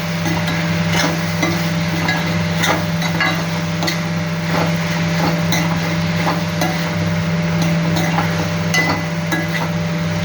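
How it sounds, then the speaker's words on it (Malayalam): A pan of masala with pepper and green chili is stirred, with light scraping clinks and faint sizzling over a constant low burner hum. "അപ്പോൾ നമ്മളിത് നല്ലതായിട്ട് ഇളക്കി വെക്കുകയാണ്"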